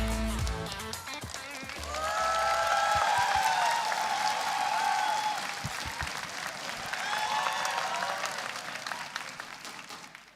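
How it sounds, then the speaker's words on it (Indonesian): A comedy show audience applauds steadily, swelling and fading, with whistles and cheers rising over the clapping. "Tepuk tangan untuk Gautama."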